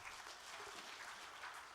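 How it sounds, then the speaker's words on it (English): An audience at the closing session of an international conference on resilient infrastructure claps in a steady, dense wash of applause. The applause stays even and unbroken from start to finish with no voices over it. "Give them all a round of applause,"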